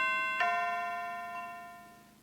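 An electronic video doorbell ringtone, the third option: a single bell-like chime strikes and rings out, its tone slowly fading away over a couple of seconds.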